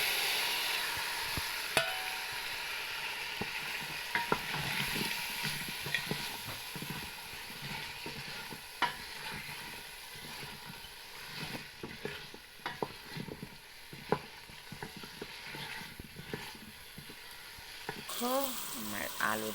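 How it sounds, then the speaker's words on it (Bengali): Potatoes frying in curry masala while being stirred, steady sizzling under repeated scraping and clattering utensil strokes, close up, with brief clinks and a voice near the end. "আমার আলুটা প্রায় কষানো হয়ে গেছে"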